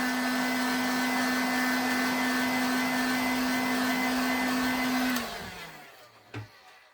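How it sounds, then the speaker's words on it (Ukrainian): A hair dryer's loud, steady motor whine with a constant hum runs for about five seconds while drying a liquid leather repair layer, then cuts off and spins down, leaving a brief knock at the end. "І так само кожен слой сушимо феном."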